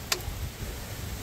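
A Jeep XJ valve cover drops onto its gaskets with a single quick, light clunk, followed by faint low rumble.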